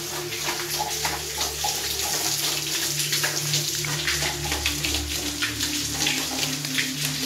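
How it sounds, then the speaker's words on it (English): Water pours and splashes steadily from above inside an abandoned mansion, a continuous close spattering with no talking over it. "the water's just coming in from up there"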